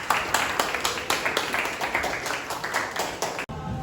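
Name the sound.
class clapping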